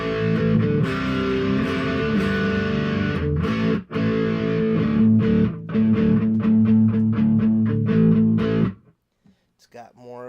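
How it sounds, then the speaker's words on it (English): A heavily distorted electric guitar, played through a distortion pedal into a Headrush FRFR108 speaker, plays sustained, gritty chords and riffs, loud and close, then cuts off, leaving brief quiet at the end. "Now the distortion is on"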